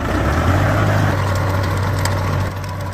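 A farm tractor engine runs at a steady idle on a strawberry farm, a close, even low-pitched drone with a faint change in tone near the end and no speech.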